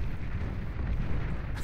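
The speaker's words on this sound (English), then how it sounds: "Wind turbines will follow in the mass AoE explosion" Mass area-of-effect chain explosion of wind turbines in the strategy game Beyond All Reason, a short dense burst of overlapping booms and crackling blasts, loud and continuous for under two seconds.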